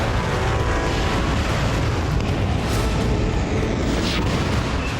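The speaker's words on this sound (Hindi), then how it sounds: "उसने एक हफ्ते के अंदर दूसरी बार मिनटमैन 3 इंटरकॉन्टिनेंटल बैलिस्टिक मिसाइल का परीक्षण किया है" A Minuteman III intercontinental ballistic missile test launch roars as a loud, continuous, dense rumble with booming low end that holds steady throughout, with no voices.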